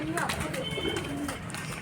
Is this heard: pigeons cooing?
yes